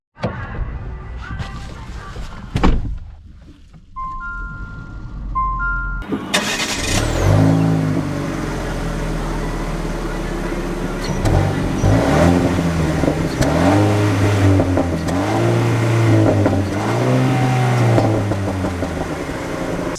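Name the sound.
2021 Jeep Renegade 80th Anniversary Edition starting and driving off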